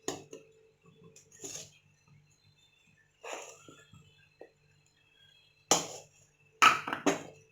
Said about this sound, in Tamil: இது நல்லா கலந்து விட்டுக்கலாம், கட்டி இல்லாமல் நல்லா கலந்து விட்டுக்கலாம்